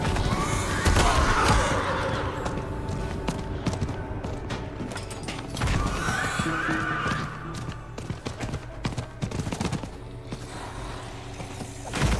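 A horse in the video game Diablo 4 whinnies twice amid steady hoof clip-clops and game ambience, loud and close.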